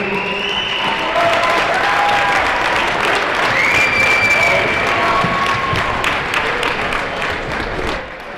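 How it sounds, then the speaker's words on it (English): Loud, sustained applause and crowd cheering fill a gymnasium during a 2019 MAPL high school basketball championship trophy presentation, with a few whistles and shouts rising through the clapping before it thins slightly at the end. "How about a big round of applause for our"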